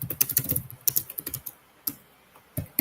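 Rapid computer keyboard typing in a market news studio, bursts of quick clattering keystrokes with short pauses between them, close and clear.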